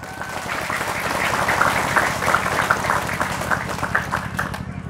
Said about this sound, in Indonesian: Tepuk tangan untuk Bung Tomo.